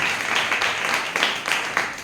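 A congregation at a church service claps in a quick, regular rhythm, a dense patter of many hands that carries on for two seconds.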